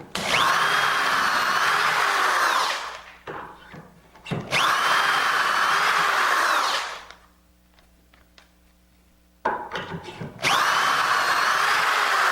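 A power drill whines loudly through wood in three long bursts, drilling dowel holes in bed rails, separated by brief pauses with small clicks and handling noises.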